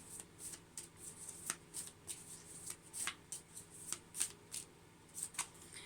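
Tarot cards shuffled by hand in a steady rhythm of crisp riffling bursts, about a dozen quick flutters and taps, close and fairly quiet with no talking.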